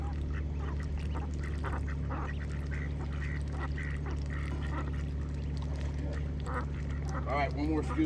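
Soft duck quacks come in short bursts over a constant low engine hum, with a person talking now and then nearby.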